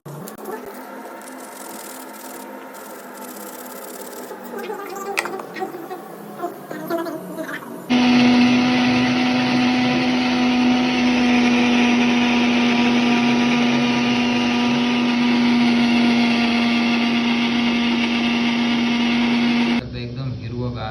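A mixer grinder loudly blends green chillies, capsicum and cumin in a steady, even whir lasting about twelve seconds, preceded and followed by a person talking.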